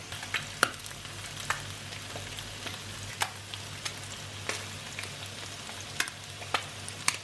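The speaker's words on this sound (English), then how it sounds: "I'm frying an egg. I fried some mushrooms and a pepper." An egg and mushrooms fry in a pan with a steady sizzle, punctuated by small crackles and pops at irregular intervals, with no talking.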